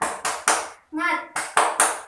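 Schoolchildren in a first-grade Islamic primary classroom perform a rhythmic 'tepuk semangat' clapping chant: sharp, evenly spaced group claps in quick bursts, broken by a short sung or chanted word from the voices between them.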